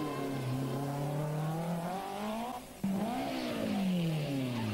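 BMW M3 rally car racing on asphalt at the 1990 Circuit des Ardennes, its engine howling close and loud, revs climbing and dropping sharply with a brief lift-off mid-run before pulling hard again.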